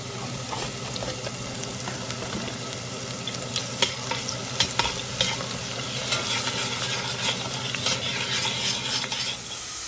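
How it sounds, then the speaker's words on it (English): Miracle noodles dry frying in a pan, a steady soft sizzle with occasional stirring scrapes and clicks throughout, moderately quiet and close. "the way I dry fry the miracle noodles"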